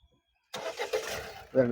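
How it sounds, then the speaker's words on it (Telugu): A 2019 Ford EcoSport cranks briefly after a moment of silence, catches and settles into a close idle, then revs up sharply near the end; someone speaks over it. "ఒకసారి ఇంజిన్ కూడా స్టార్ట్ చేసి చూపిస్తానండి"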